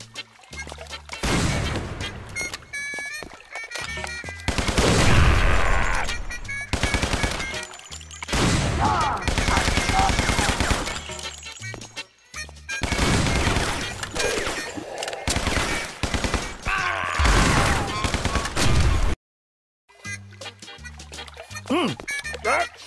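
Gunfire in the gangster video game Guns, Gore and Cannoli, with loud, repeated bursts of shots, some rapid like machine-gun fire, filling most of the stretch amid dense game noise and a brief silent gap near the end.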